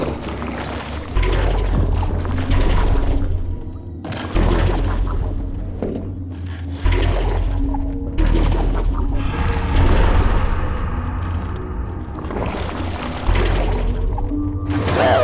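Repeated heavy booming bursts come from the paint-firing gun in the video game Aperture Tag, several loud whooshing blasts spaced a second or two apart over a low steady hum.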